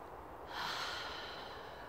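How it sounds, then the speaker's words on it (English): A single deep breath, drawn in audibly through the nose and then released, close and soft, with no talking. "Infusing kindness into my whole entire life and take a deep breath"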